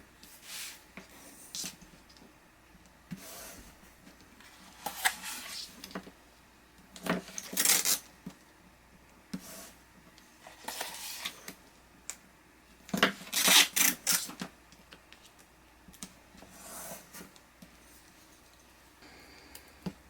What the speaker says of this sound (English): then we're going to put score tape all the way around on the cardstock